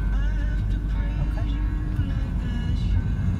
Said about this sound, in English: See how fast that bloody lorry's coming up for that bloody joint then.